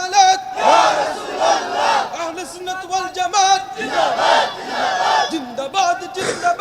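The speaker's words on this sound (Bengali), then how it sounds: "এবার তাকবীর দেন জোরে।" A large crowd at a waz religious gathering loudly chants takbir (Allahu Akbar), the massed shouts rising and falling in repeated waves close up.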